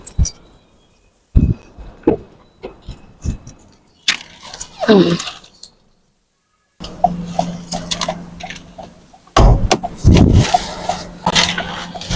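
Keys jangling and clicking during the start-up of a Toyota Corolla Cross 1.8V hybrid, sharp bursts separated by pauses and one silent gap, with soft mechanical noise rising after the gap.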